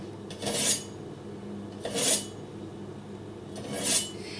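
A Cutco vegetable knife drawn through a Cutco #80 sharpener three times at an even pace, each stroke a bright rasping scrape against quiet room tone.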